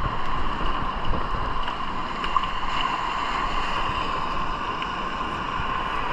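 Large sea waves roll in at high tide along a shore where someone is fishing, a steady broad roar of surf and wash with no voices.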